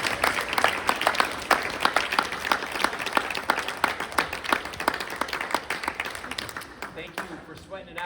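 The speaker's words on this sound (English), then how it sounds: "how about one more round of applause for James and for his family" An audience at a political community event applauds for James and his family, dense sustained clapping from a crowd that tapers off toward the end, with voices mixed underneath.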